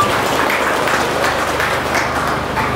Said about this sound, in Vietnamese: Xin hãy đại chúng mà cho một tràng pháo tay để chúc mừng Phật tử tăng trụ trì.